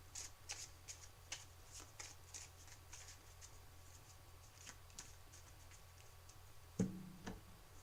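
Yu-Gi-Oh! card decks are shuffled quietly and close by, with soft repeated riffling ticks at a steady pace and a brief louder knock near the end.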